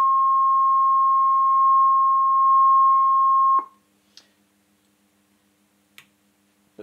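A Leevers Rich Series CS vintage reel-to-reel tape recorder's oscillator puts out a steady, pure test tone for several seconds, then stops suddenly, followed by a few faint, sparse mechanical clicks.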